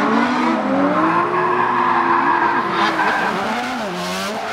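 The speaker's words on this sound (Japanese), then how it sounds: "恵比寿名物の壁すれすれのドリフトを見せ、今村が走ります" A drift car slides on a wet track, its tires squealing in a long, loud, wavering skid as the engine drones beneath.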